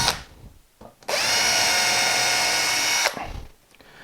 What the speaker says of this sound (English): Supporting the wood, a couple of small pilot holes.